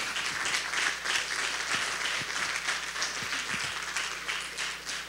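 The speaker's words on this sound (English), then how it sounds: "Let's give another round of applause to Mr. Dunn." Steady applause from an indoor audience at a formal ceremony honouring an FBI agent, continuous moderate clapping without speech.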